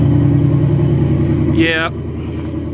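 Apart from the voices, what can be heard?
2018 Ford Mustang engine rumbling, stuck in snow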